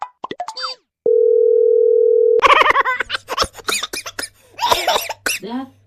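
A phone call rings out unanswered, heard as one long, steady, loud electronic tone of a bit over a second, with short vocal sounds before it and a voice talking right after.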